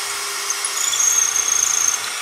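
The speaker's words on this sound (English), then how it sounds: "until they have to drill a hole." A power drill whirs steadily with a high-pitched grinding whine, drilling a hole in a wall beside a window, close up, for a couple of seconds.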